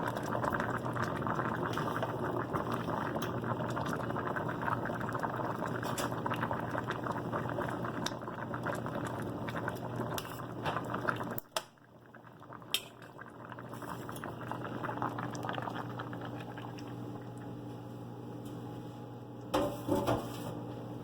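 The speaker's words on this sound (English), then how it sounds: "My potatoes are getting cooked to death" Potatoes boiling hard in a pot on the stove, a steady close bubbling roar that drops off briefly midway, then resumes with a few clinks of a fork or utensil against the pot.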